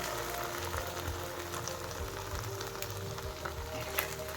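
A thick mustard and coconut paste fries quietly in a pan, giving a soft, continuous sizzle with faint crackles.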